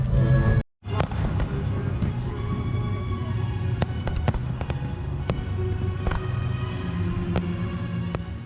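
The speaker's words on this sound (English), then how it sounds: "There were some 18th century style fireworks, as well as a big fireworks show at 10:45 p.m." A big nighttime fireworks show at the Palace of Versailles: a dense, continuous rumble and crackle of bursts with sharp individual bangs, heard from a distance after a brief drop near the start, with faint crowd murmur underneath.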